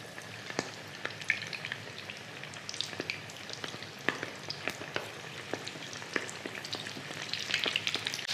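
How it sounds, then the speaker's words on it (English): Quiet, steady sizzling and crackling of prawns deep frying in hot oil, with scattered sharp pops throughout. "when you're deep frying, just carefully lay your prawns into your hot oil"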